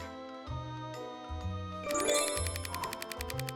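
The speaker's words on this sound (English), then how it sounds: "Mrs. Agatha Riley always brings a bell to these things." A handbell rings at a seance, chiming in a quick run of bright, tinkling strokes near the end. Before that come low, hollow tones, and no one speaks.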